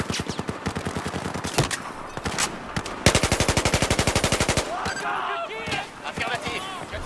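Automatic weapon fire in the video game Battlefield 4, loud and close, with a steady rapid burst of shots around the middle, other sharp shots around it, and someone talking over the game.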